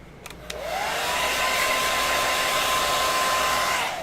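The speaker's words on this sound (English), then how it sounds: "Get this with a hair dryer." A hair dryer is aimed at fresh paint on a Mega Man X figure. After a couple of clicks, it whirs up to a loud, steady, close blowing roar that holds for several seconds.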